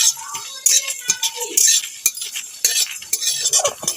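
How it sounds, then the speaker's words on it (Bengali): Whole spices (cumin, panch phoron, coriander, fennel and dried chilli) are stirred in a pan, with close, irregular spatula scrapes and metallic clinks in short bursts and only a faint hint of frying. "মশলাগুলোকে ভেজে নেব"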